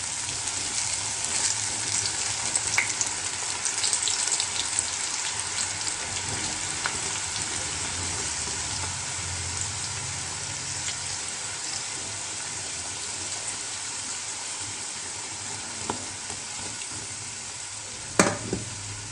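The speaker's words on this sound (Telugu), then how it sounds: "ఆయిల్ హీట్ అయిపోయిన తర్వాత మొక్కజొన్న కండి వేసుకోవాలండి." Battered corn kernels frying in hot oil for crispy corn, a dense, steady sizzle and crackle close by, with occasional sharper pops and no talking.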